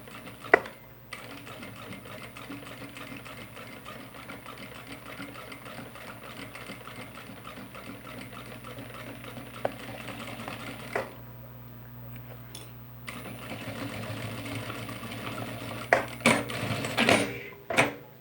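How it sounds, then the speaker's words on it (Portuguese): A sewing machine stitches fabric for a backpack with a rapid, steady mechanical whirr that runs for about eleven seconds, stops briefly, then starts again, ending with a few clacks and knocks. "vocês podem deixar por conta da máquina para puxar o tecido"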